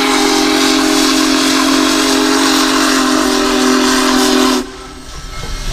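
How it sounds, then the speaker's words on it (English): A loud, sustained whistle from the Union Pacific Big Boy 4014 steam locomotive blows steadily for about four and a half seconds, then cuts off abruptly, leaving a hissing, rumbling background. "Union Pacific's Big Boy 4014 steam locomotive"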